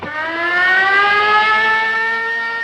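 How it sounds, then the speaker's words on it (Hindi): A loud, sustained factory mill shift siren wails alone, its steady tone rising slightly and holding for a few seconds. "मिल का सायरन मजदूरों की एक पाली पूरी होने की सूचना थी।"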